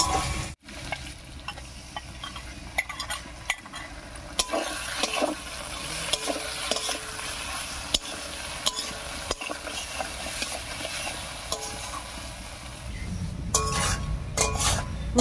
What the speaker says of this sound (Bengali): মশলাগুলো দিয়ে একটু নাড়িয়ে নিয়েছি।